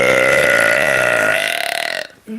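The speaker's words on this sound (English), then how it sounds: "a sexy burp clip" A loud, long, close burp rolling for about two seconds before trailing off, followed by a short breathy sound.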